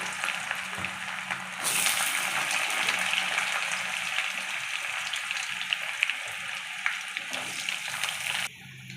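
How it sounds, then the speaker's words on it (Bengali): Chopped carrots fry in a pan with a steady, close sizzle that swells as they go in, punctuated by occasional stirring clicks, with no voices. "প্রথমে আমি কেটে রাখা গাজরটা দিয়ে দিলাম।"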